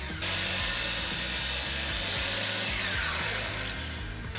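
Wooden trim molding for a mirror frame is sawn, a loud close rhythmic cutting rasp of repeated strokes continuing steadily without talk.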